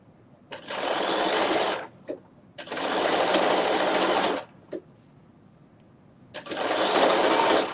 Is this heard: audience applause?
no